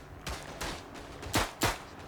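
Sharp gunshots from the World War I shooter Verdun, a few scattered single pops early, then two louder, nearer cracks close together near the end, with no talk.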